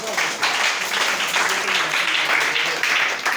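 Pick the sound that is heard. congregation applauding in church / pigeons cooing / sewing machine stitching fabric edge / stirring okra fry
congregation applauding in church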